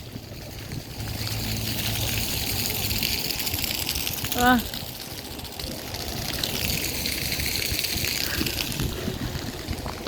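Steady splashing water from a fountain on a waterfront promenade fills the scene as a continuous broadband wash, close by, with a brief voice and other people faintly audible under it.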